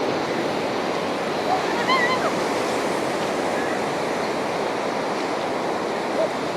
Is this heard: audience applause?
no